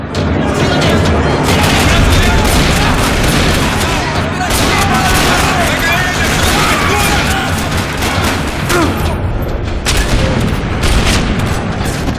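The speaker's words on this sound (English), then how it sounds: "Another parking lot rattling with gunfire." Sustained gunfire rattles across a parking lot in the video game Max Payne 3, dense overlapping bursts and booms running loud and continuous throughout.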